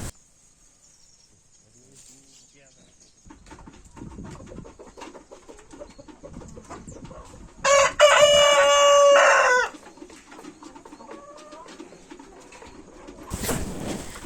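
Chickens on an African countryside farm, with a rooster crowing once loudly and close in the middle, set against quieter clucking and bird calls and light ambient rustling.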